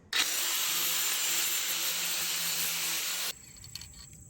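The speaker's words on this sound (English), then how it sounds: "we're just gonna sand this down with this grinding, sanding wheel and then slap some paint on it" A grinding sanding wheel sands down a car mount for a Porsche Cayman 987, one loud steady hissing burst of about three seconds that cuts off abruptly into quiet.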